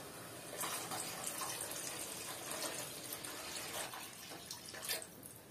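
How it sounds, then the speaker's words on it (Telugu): A glass of water poured into rice in a pot while making egg biryani, a soft continuous splashing trickle lasting several seconds, fairly faint and close, with no talking. "ఒక గ్లాస్ బియ్యానికి 1 గ్లాస్ నీళ్ళు పోసుకుంటున్నా"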